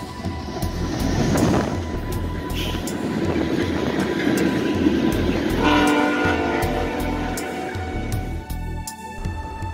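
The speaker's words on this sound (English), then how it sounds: "footage of a BNSF train passing over the same switch was uploaded" A BNSF train rolls over a rail switch on an active mainline, with a loud, continuous rumble and clatter throughout and steady horn-like tones sounding during the last few seconds. No one speaks.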